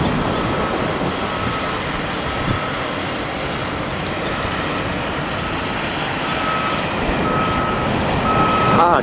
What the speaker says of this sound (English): 2 trucks coming to the pile.